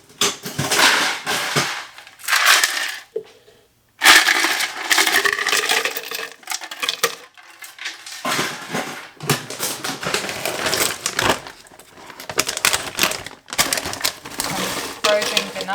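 Ice cubes clatter and crunch as they are scooped out for a NutriBullet breakfast smoothie, coming in loud, close bursts of rattling with a brief pause partway through.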